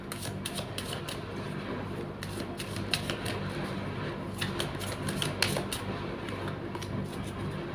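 Tarot cards shuffled up close in a series of quick, crisp riffling bursts over a steady low background hum, with no talking.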